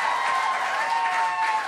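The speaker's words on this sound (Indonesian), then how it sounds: "ayo tepuk tangan dengan antusias" Congregation at a church worship service clapping hands enthusiastically, a dense steady wash of applause close and sustained throughout, with a faint tonal hum beneath.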